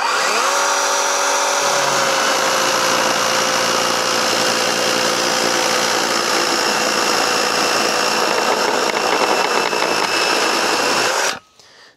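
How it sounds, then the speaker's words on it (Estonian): A Dedra cordless chainsaw bites into 150x50 timber, a steady loud whine of chain and motor running continuously for about eleven seconds before cutting off abruptly at the end. "Praegu ma nagu väga peale ei surunud, aga oli ka kuulda, et ta nagu väga sae pöördeid nagu maha ei tõmmanud."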